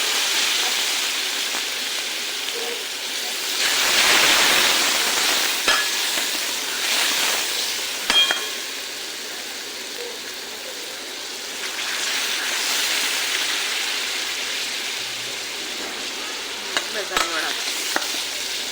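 Spices and mutton gravy sizzle steadily in hot oil in a home kitchen pan for a mutton curry, with a continuous frying hiss that swells and fades as the mixture is stirred, and no talking.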